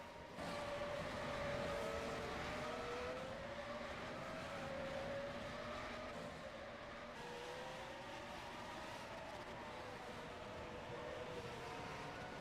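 A race car engine in the rFactor 2 sim racing game, a United Racing Club car on track at Istanbul, drones faintly with a steady whine whose pitch rises and falls through gear changes.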